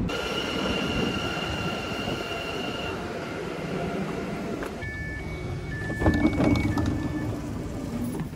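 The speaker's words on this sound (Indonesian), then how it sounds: "sekarang keretanya udah datang" Train pulling into a station, heard as a steady rumble with squealing wheels and brake tones, rising in loudness near the end, moderately close, with no talk.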